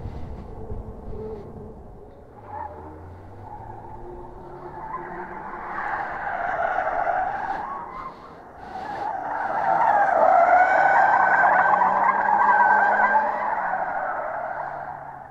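A car skids hard with long, wavering tyre squeal that swells and fades over its engine, loud and sustained, wearing its tyres down in a parking area near a few parked cars.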